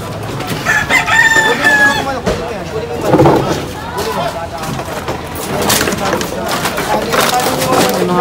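Caged fighting roosters crowing nearby, several loud drawn-out crows and some clucking over a bustling background, with people talking at the same time.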